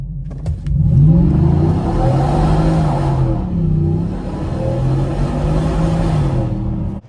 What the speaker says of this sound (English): 3-liter Generation 6 Whipple Supercharger on top of the 5-liter Coyote engine